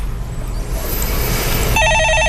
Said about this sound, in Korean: 네, 전화 받아보겠습니다.